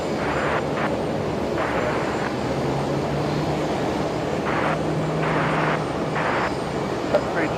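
Qantas airliner just arrived from Christchurch at Brisbane Airport, heard as a steady, broad engine roar filling the whole stretch, with intermittent voices on top of it.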